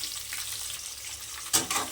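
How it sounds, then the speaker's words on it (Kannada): Onions frying in hot oil in a village home kitchen, a steady close sizzle with a brief louder burst of crackling and stirring near the end. "ಈರುಳ್ಳಿ ಸೇರಿಸ್ಕೊಂಡು ಚೆನ್ನಾಗಿ ಫ್ರೈ ಮಾಡ್ಕೊಳ್ತಾ ಇದ್ದೀನಿ."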